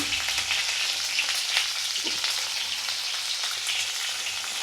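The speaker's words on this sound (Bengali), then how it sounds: "ভালো করে আমি লাল করে ভেজে নেব" Eggs frying in oil in a pan for a quick egg curry, a steady dense sizzle that holds evenly at close range throughout with no talk.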